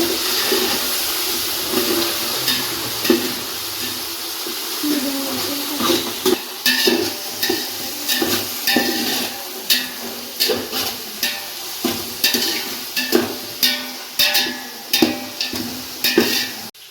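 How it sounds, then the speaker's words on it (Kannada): Finely chopped tomatoes fry lightly in a pan for chicken biryani, a bubbling sizzle with a rhythmic run of spoon scrapes and clacks that grows busier and more regular toward the end. "ಅದನ್ನು ಅಷ್ಟೇ ಲೈಟಾಗಿ ಫ್ರೈ ಮಾಡ್ಕೊಳೋಣ"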